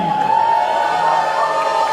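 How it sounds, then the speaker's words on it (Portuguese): A crowd cheers and shouts with whoops at a church water baptism, loud and sustained throughout, with no clear speech over it. "Olha, tem até torcida."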